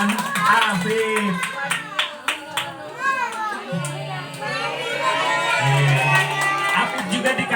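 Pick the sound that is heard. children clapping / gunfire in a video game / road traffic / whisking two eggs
children clapping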